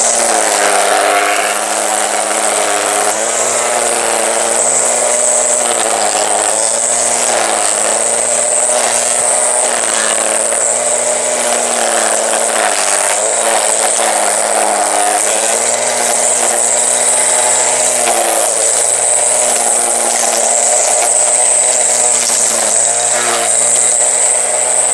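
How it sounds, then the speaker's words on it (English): Battery-powered cordless string trimmer edging a lawn, a loud, close, continuous high-pitched motor whine that shifts slightly in pitch as it cuts, running steadily throughout. "Thankfully, I have a cordless trimmer that I plug in the battery and I'm good to go."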